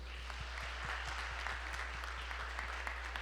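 A church congregation claps together in a steady, even rhythm, moderately faint beneath a low electrical hum, with no voices over it.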